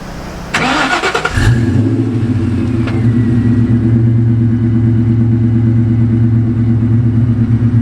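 A cammed, tuned Ford Mustang engine cranks and fires up with a sharp burst, then settles into a loud, choppy, lumpy idle that continues steadily up close.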